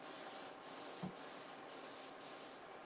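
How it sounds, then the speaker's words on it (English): Crisco pan release cooking spray hisses into a pan over a kitchen sink in five short bursts, loud and close, each separated by a brief pause. "I'm just gonna give this a spray. This is just some pan release Crisco"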